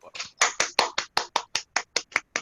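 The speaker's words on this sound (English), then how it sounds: "A big round of applause." Slow, evenly spaced hand claps at an online debate club meeting, about a dozen sharp separate claps in steady rhythm, close and fairly loud, sounding like one person clapping into a microphone rather than a full crowd.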